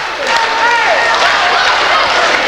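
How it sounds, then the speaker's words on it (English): A wrestling crowd cheers and applauds, a loud continuous roar with scattered shouts and clapping, while voices talk over it throughout. "You can hear the crowd"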